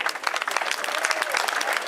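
Public applause for the podium winners of a women's World Cup cycling race finale at the 2013 Plouay Grand Prix, steady dense clapping from a crowd, moderately loud and continuous throughout.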